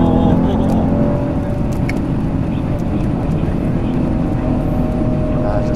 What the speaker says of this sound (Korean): 진짜 우리나라에서도 얼마 남지 않은 자연흡기 V8 엔진입니다